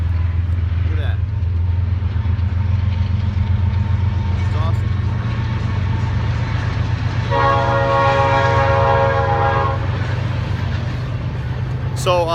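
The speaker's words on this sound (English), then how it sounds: "Oh cool, a train." A train passes near a campground, rumbling steadily up close, and its horn sounds one sustained blast partway through. Voices are heard over the rumble.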